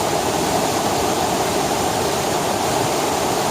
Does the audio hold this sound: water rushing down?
yes